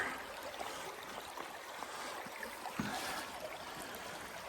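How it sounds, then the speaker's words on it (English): Someone wades through shallow water in Mehoopany Creek near Ricketts, Pennsylvania. A soft, continuous trickle and gurgle of flowing water is broken by a few faint splashes from steps, with no talking. "We're just gonna go through the water."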